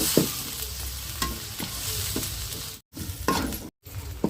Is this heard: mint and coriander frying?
yes